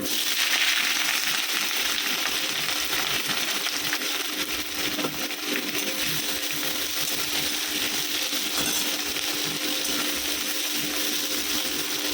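Methi, ginger, garlic, chilli and onion sizzling in a hot pan while cooking methi lemon chicken, a steady, loud, crackling hiss running unbroken throughout with no voices.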